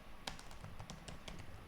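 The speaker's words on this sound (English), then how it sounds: "Now URL, and I'm going to type" Quick, faint keystrokes on a computer keyboard, a short irregular burst of light clicks and taps typed close by with no voices.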